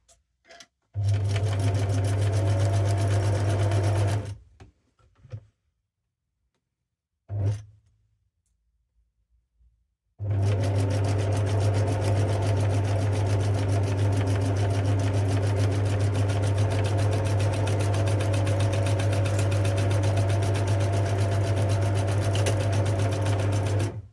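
A sewing machine whirs in rapid stitching bursts while sewing fabric snippet rolls: a short run, a pause with faint handling noises, then a long, steady stretch of continuous stitching.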